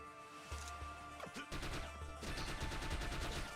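Gunfire in The Mummy Demastered, a retro-style action video game: rapid bursts of shots and impacts over layered game music and effects, dense and continuous throughout.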